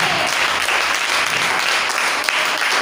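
Dense, steady applause from a church congregation, many hands clapping together at close range, sustained evenly throughout.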